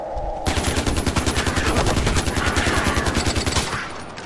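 Rapid automatic gunfire in the Far Cry 4 video game, a loud sustained burst of evenly spaced shots lasting a few seconds before tapering off, with no talk over it.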